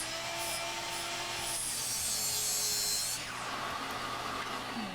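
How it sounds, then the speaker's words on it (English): A miter saw cuts pieces of wood to length for side bracing in a woodworking shop, a short whining spin-up and cut with a rough sawing rasp, then winding down; it sounds faint and fairly distant. "Cutting them to length at the miter saw."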